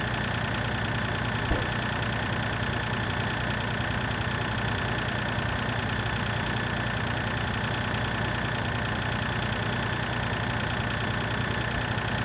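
A tractor engine in Farming Simulator 2013 drones steadily while driving, a dense, constant mid-to-low engine hum with no change in pitch, loud and unbroken throughout.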